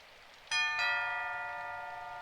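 School bell in the game Symphonic Rain, two bright chime strikes half a second apart, then a long clear ring slowly fading, loud and alone against quiet.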